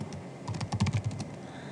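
Quick burst of close typing on a computer keyboard, with a dozen or so crisp keystrokes clustered at an uneven rhythm and no voices.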